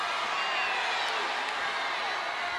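A crowd in a gym at a girls' high school basketball playoff game between Alchesay and Snowflake, a steady roar of cheering and whoops that holds loud and even throughout, with no clear individual voices.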